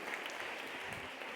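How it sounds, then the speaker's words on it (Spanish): Brief burst of audience applause at a Spanish advertising conference talk, a faint, steady wash of clapping from a room of listeners. "Ahora sí, un aplauso para todos."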